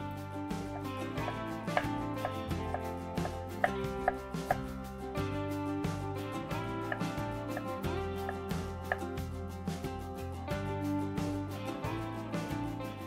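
Rapid knife chopping onions on a board, crisp repeated taps running steadily throughout, mixed with background music.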